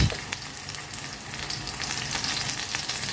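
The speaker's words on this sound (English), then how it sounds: "Mix and fry little bit." Steady hissing and sizzling of bottle gourd skins frying with salt and turmeric in a hot pan, with soft crackles throughout and no voices.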